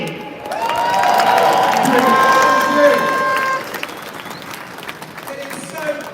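Crowd at an outdoor farmers' protest rally cheering and applauding loudly for a politician, a sustained swell of claps and shouts that fades after a few seconds into scattered calls and murmur.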